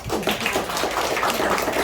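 An audience claps at a health seminar in Indonesia, with a brief burst of steady, dense applause throughout, close and fairly loud.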